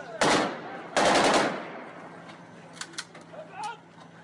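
Celebratory gunfire at a wedding: two loud, dense bursts of rapid shots close by, each about half a second long, followed by scattered faint pops and light chirping.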